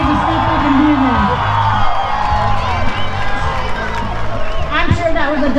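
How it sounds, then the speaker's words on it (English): A crowd at a 3000 Diesels truck event in the mountains cheers and whoops, a loud, sustained outdoor roar with scattered claps while someone speaks over it through a loudspeaker. "Big cheer for these guys."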